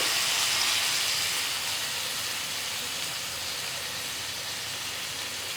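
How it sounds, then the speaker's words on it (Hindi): Marinated chicken pieces sizzle in a pan of hot oil over a high flame, a loud steady broadband hiss that eases slightly after the first second and carries on alone without talk. "इसमें हम चिकन के पीसेज ऐड कर देंगे"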